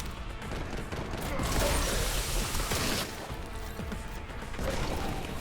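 Heavy gunfire from a massive gun in a video game: a dense, continuous barrage of booming shots and crashing impacts, loud and close, lasting throughout with slight swells.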